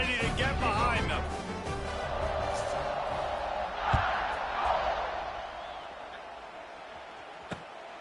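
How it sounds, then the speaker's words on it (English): A virtual stadium crowd in the NCAA 26 college football video game roars before a kickoff, a broad swelling cheer that rises and fades and is punctuated by a couple of sharp thuds. "this crowd now ready to get behind them"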